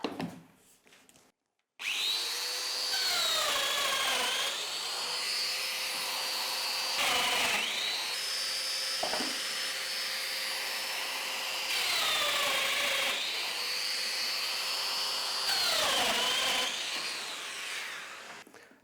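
A Festool Domino DF500 joiner whines as it plunges into wood, cutting mortises at 28mm depth, several cutting passes with brief pauses between them, loud and close.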